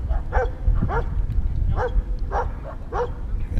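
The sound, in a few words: dogs playing in lake water, barking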